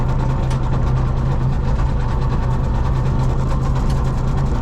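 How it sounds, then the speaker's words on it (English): A Lambro three-wheeler's engine idles with a steady, rough low rumble and fast mechanical chatter, close and constant throughout, with no voices. "clutch, starter button, thing starts right up."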